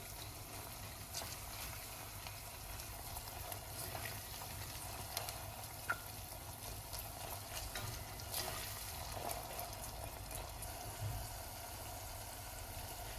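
Red pepper paste and tomato paste fry in a pan for an okra dish, giving a steady low sizzle and crackle throughout with faint stirring, no voices.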